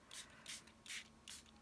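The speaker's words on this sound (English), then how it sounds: "I've just got water. And I'm going to lightly spray across" A hand mist sprayer spritzes water lightly over paper in four short, soft hissing puffs at an even pace, close and quiet, with no talk.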